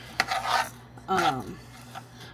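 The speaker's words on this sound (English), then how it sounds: "you do want to keep stirring it around because this is dry rice in the pan" A utensil stirring and scraping dry rice with melting butter in a pan, two drawn-out scrapes with a light clink, close and moderately loud, with no talking.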